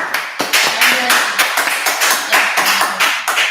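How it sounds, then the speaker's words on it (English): Hand clapping by students in a classroom, a loud uneven series of close sharp claps in bursts with voices mixed in. "If you can't clap the right way, don't clap at all."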